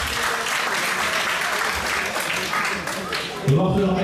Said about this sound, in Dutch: mag ik een groot applaus voor deze twee vechters.